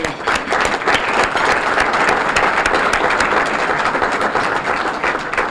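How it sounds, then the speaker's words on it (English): A crowd at a town's State of the Town address gives Mike a big round of applause, loud and sustained, with dense clapping throughout. "Let's have another big round of applause for Mike."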